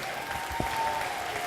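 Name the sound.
audience applause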